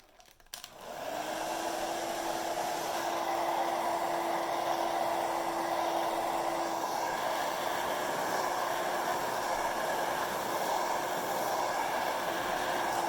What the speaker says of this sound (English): So when I'm blow drying this, I'm over directing this hair.